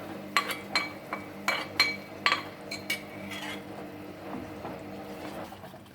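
A spoon clinks against a pan while garlic and ginger sautéed in oil are stirred into Schezwan sauce, a run of sharp, close, irregular taps over the first three seconds before settling into softer scraping and sizzle.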